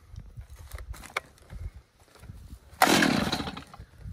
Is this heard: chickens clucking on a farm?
no